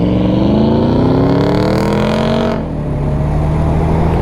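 A V8 car passes close and loud, its engine tone sweeping upward before cutting off sharply, after which a steadier lower engine drone carries on.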